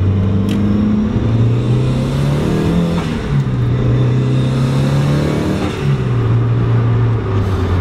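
A turbocharged Mazda Miata pulls hard at half throttle, its engine note climbing steadily through the gears with two brief dips at the shifts, loud and close throughout with no talking.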